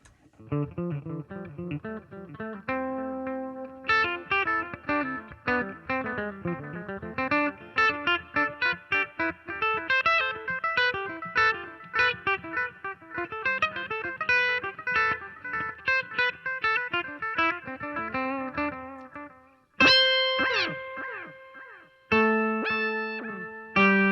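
An electric guitar plays a quick run of picked notes through a dotted-eighth delay pedal, the repeats creating a rhythmic cascading pattern, sustained and fairly loud throughout.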